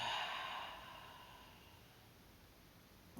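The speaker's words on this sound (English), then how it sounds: "Full breath out." A long, soft exhale during a yoga breathing exercise, a breathy rush of air that starts fuller and gradually tapers off over a few seconds, close and quiet, with no talking.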